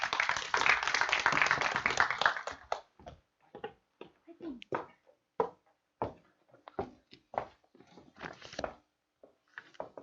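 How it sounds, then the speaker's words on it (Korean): An audience welcomes a presenting team at an AI training program's final project presentation with a short burst of clapping that quickly fades, giving way to sparse, scattered individual claps and taps across the rest of the moment. "큰 박수로 환영해 주세요."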